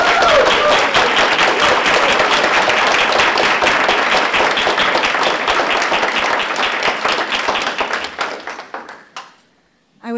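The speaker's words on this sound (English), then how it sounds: "Please join me in a round of applause to thank the Resurvey Committee" Dense, loud applause from an audience at a historic preservation awards ceremony, sustained for about eight seconds before tapering off to near silence with a few last claps.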